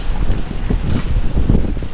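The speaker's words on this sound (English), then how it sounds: "Engine's running" A boat's engine idles steadily at close range, a low continuous rumble mixed with gusty wind buffeting the microphone, with no talking.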